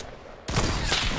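Gunfire in Fortnite: after a quiet start, a loud dense burst of shots erupts abruptly and continues to the end, close and harsh.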